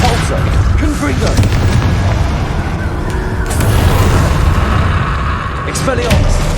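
Spell blasts and booms in Hogwarts Legacy, loud repeated explosions and impacts layered over constant combat noise, with a voice speaking throughout.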